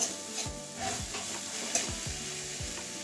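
Papaya for chutney stir-fried in a pan, giving a steady close sizzle broken by repeated scraping strokes of a spatula, a few low knocks against the pan, no talking.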